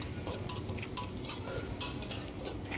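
Garlic and pepper sautéing in oil in a pan give a steady, close sizzle and crackle, with faint stirring scrapes and no talking.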